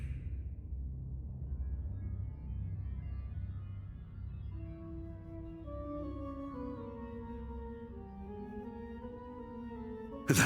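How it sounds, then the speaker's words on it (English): A Reaper flute from a Dragon Quest video game sounds over a low rumbling backdrop, its melody emerging as a series of stepped, sustained tones that wander downward, fairly soft and alone without talk. "That sound, that's the sound of the Reaper flute."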